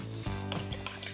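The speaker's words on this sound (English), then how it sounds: "Next, lightly whisk in 2 whole eggs." A whisk clatters against a bowl while two whole eggs are beaten into blondie batter, a few quick metallic taps and scrapes heard up close over about a second.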